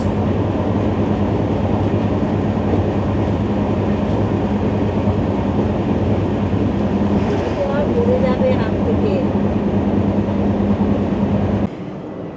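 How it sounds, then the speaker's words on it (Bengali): A train running about half an hour late pulls out of Naxalbari station with a steady loud rumble and rail noise throughout, while people talk over it. "এইবার নকশালবাড়ি স্টেশন ছাড়লো, ওই মোটামুটি আধ ঘন্টা লেট চলছে ট্রেনটা।"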